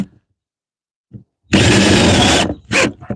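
A power drill drives a screw into a garden shed, one loud, sustained whirring burst of about a second, then a shorter second burst, with brief clicks beforehand and silence around it.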